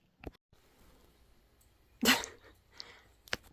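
A dog by an opened window gives a few short, sharp snorts or sneezes, with one loud burst in the middle and quieter ones before and after, close to the microphone.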